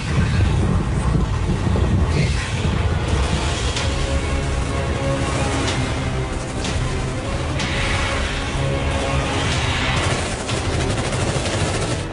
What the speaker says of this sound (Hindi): लेकिन कभी ऐसा तूफान नहीं देखा